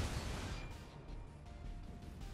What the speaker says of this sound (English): That was a mediocre salvo, but it was just the back guns